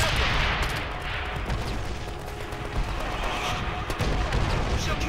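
Gunfire and artillery in the Call of Duty: World at War multiplayer War mode with an MP40: dense, continuous crackle of shots and explosions throughout, with a spoken in-game voice line over the battle.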